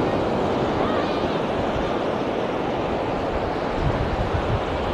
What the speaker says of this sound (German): auf dem offenen Meer scheint es noch zu stürmen, dass hier überhaupt die Wellen noch da sind